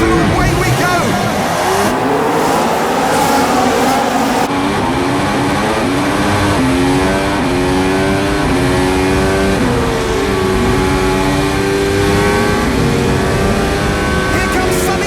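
Formula 1 race cars scream away from the race start, loud high-pitched engines rising and shifting through the gears as several cars pass close together, with a voice talking over them.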